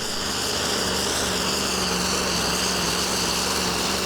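A pulling tractor powered by a 14-litre Scania V8 works hard under heavy sledge load at a tractor pulling championship, its engine a loud, sustained, strained roar heard at a distance with little variation.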